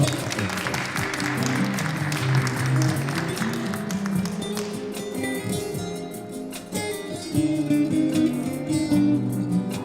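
An audience at a lunch concert claps in sustained, dense applause, with music tones lingering underneath as the clapping thins and returns.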